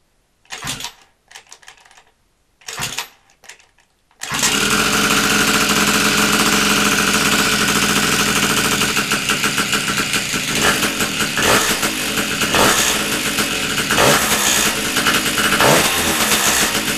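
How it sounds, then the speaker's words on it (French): A moped fitted with an Aliexpress exhaust cartridge gets a couple of short kick attempts, then fires up and settles into a loud, close, steady rattling idle with slight rev wavers. "je te fais un petit démarrage et on va aller rouler"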